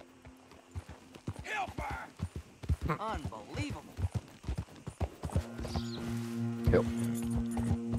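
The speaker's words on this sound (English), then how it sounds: "Casual riding a horse through an estate" Horse hooves clip-clop at a walking pace while riding through an estate in Red Dead Redemption 2, with someone talking over the uneven steps before a steady musical hum takes over.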